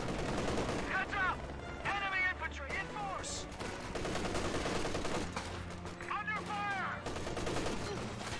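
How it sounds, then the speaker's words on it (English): MG34 machine gun fire in the Company of Heroes 2 video game, rapid bursts of gunfire mixed with other battle shots and explosions, loud and continuous amid the chaos. "the rear echelon squad is getting suppressed by this MG34"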